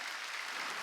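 Steady, dense applause from a church congregation during a Wednesday worship service, many hands clapping at once in a loud unbroken wash, with no speech above it.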